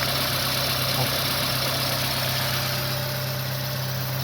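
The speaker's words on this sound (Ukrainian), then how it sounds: "Тихенько працює двигун." A 2006 Volkswagen Passat B6 1.6 petrol engine idles steadily and quietly, a low continuous hum with no other sounds over it.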